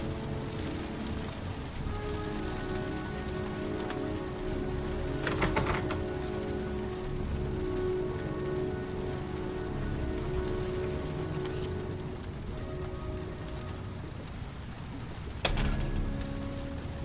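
Constant rainfall in the video game Heavy Rain patters on for the whole stretch under a low, droning ambience, with a few brief sharp tonal bursts breaking through.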